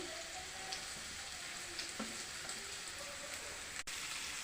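Chopped carrots frying in hot oil in a pan give a soft, continuous sizzle with light crackles and one sharp click near the end. The sound is faint and even.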